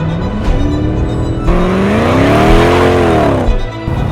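A Mercedes-Benz W210 E55 AMG engine roars loud and close, revs climbing and dipping as the car accelerates hard into a turn, with a shift and a steady rising drone.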